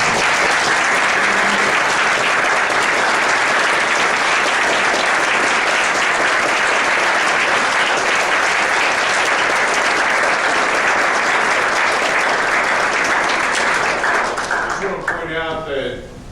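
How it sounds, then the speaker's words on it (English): Audience applause at a lecture or talk, steady and loud crowd clapping sustained for about fifteen seconds before tapering off, with a voice starting to speak at the end. "Let's give a round of applause"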